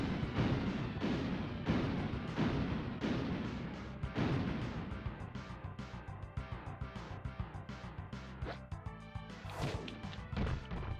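Bomb blasts in a Death of Superman video game, a series of heavy booming impacts and crashes at regular intervals, followed by smaller thuds and clatter.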